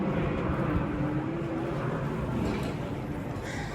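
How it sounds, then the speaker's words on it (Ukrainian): Aircraft flying overhead in Vienna, Austria, a steady broad roar that stays loud and continuous throughout, with no talk. "Боже, самоліти літають, не дають знімати. Дивись, самоліт за самолітом."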